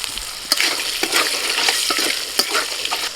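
Raw green peas frying in a pan for pulao, a loud close sizzle with repeated scraping stirs and clinks of the spatula, with no voices.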